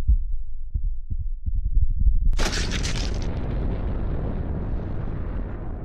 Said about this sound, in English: a gland secretes saliva onto the crystals, causing an explosive reaction